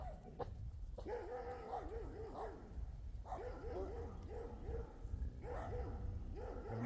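Several dogs, among them a Doberman Pinscher, bark repeatedly in yipping bursts at moderate distance, with brief pauses between volleys and some whimpering yips mixed in.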